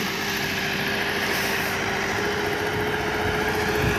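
A JCB excavator digs soil in a field near a river, its engine giving a steady, close, continuous droning rumble throughout with no talking.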